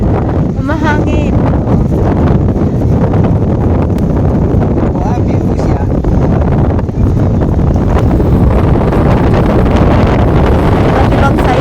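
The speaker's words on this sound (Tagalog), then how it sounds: "Mahangin kasi." Strong wind buffets the microphone while riding a bicycle along a breezy coast at Nanliao, Taiwan, a constant loud roar covering everything, with faint talk under it.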